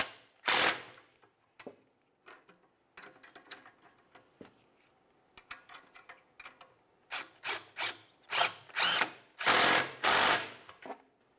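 A ratchet wrench tightens the exhaust pipe bolts on a 2011-2018 Volkswagen Jetta, with irregular bursts of close, sharp clicking that grow into a steady back-and-forth rhythm near the end.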